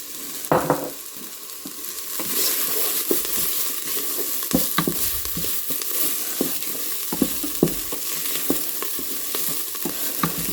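Herbs hit a hot pan of simmering soy and pepper sauce with a steady, close sizzle, interrupted by scraping stirs and soft clatters of the utensil against the pan.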